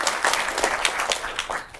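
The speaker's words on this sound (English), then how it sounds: "Give that kid a round of applause." An audience applauds a child at a maths talk: a brief, steady burst of many hands clapping at middling distance, with no voices over it.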